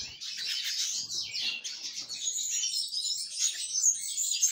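Wild birds gathered at a cheap homemade seed paste feeder, a dense run of high, bright chirps and tweets overlapping continuously, fairly close and steady, with no talk.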